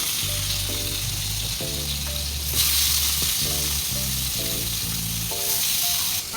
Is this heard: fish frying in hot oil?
yes